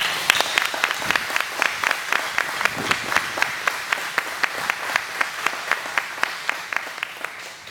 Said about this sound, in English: Please give a warm round of applause for his professional compliments and his family.